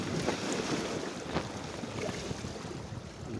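A steady low engine drone of a fishing boat runs throughout, mixed with wind buffeting and water wash, like a small boat motoring along on open water.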